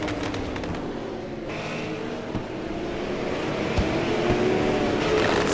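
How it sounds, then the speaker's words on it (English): Fireworks going off after a stock car race at Lanier National Speedway, a steady crackling and booming wash with a few sharper bangs, mixed with loud crowd and track ambience throughout. "Fireworks in the air here at Lanier on a job well done."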